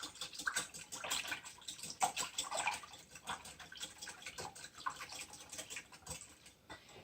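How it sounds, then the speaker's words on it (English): Egg mixture for lemon French toast is whisked in a bowl, giving rapid, uneven light clicks and wet tapping that rise and fall, fairly faint and close, with no talking. "And of course, I'm just going to whisk this up."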